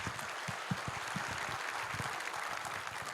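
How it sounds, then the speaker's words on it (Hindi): An audience at a media and journalism literary event in Surat applauds a speaker named Sagar, a fairly quiet, steady patter of clapping from many hands, somewhat distant in a hall. "सागर के लिए एक बार तालियां आप लोग बजा दीजिए"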